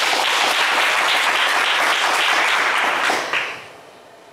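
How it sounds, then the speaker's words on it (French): A studio audience applauds loudly on a French TV game show, dense continuous clapping that holds steady for about three seconds, then fades quickly to near silence. "On vous applaudit très fort."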